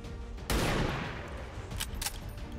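Gunfire in the video game XCOM 2: one loud, close burst that rings and fades, followed by two shorter, sharper cracks in quick succession, with no talking over them.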